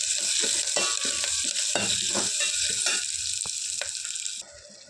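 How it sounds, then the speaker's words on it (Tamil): Onions, dried red chillies and curry leaves sautéing in oil for a ridge gourd kootu, giving a steady close sizzle with stirring scrapes and a few light clinks, then quieting near the end. "கொஞ்சம் கருவேப்பிலை போட்டிருக்கேன். இதை வதக்கிக்கலாம்."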